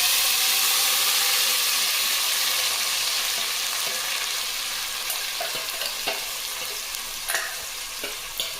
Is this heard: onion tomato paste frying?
yes